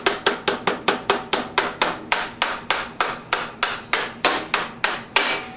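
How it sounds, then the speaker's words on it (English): A dead blow hammer taps a 1973 Honda CB750 motorcycle's rear wheel axle, roughly twenty sharp, evenly spaced knocks in steady rhythm, close and clear with no talk. "Let's get a few taps with a dead blow hammer here."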